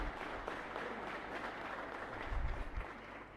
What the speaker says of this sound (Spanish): Un fuerte aplauso para nuestros vecinos.